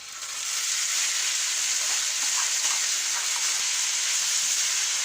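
Kebab meat sizzles and fries in a very hot pan, a steady, dense crackle that swells in within the first half second and holds loud and close throughout with no talking.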